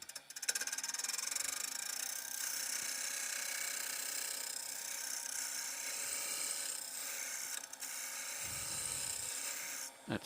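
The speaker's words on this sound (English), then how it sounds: "I will just true this up a little on the outside with my spindle roughing gouge." Wood lathe spinning a wooden salt shaker blank while a spindle roughing gouge trues up its outside: a continuous high, raspy scraping whir with steady motor hum, brief changes as the tool lifts, and no talk.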